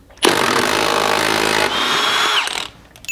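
A power tool spins a fluted socket hard into a locking wheel nut to remove it, a loud continuous whirring burst of about two seconds that winds down, then stops.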